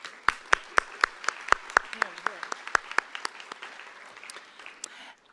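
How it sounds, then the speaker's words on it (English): Sparse applause from an audience honoring board members, a small group clapping in distinct separate claps that thin out and stop after about five seconds. "Please have a round of applause for our board members."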